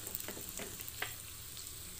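Ingredients for majjiga rasam fry in a pan with a soft, steady sizzle and a few faint crackles and stirring sounds, close and fairly quiet.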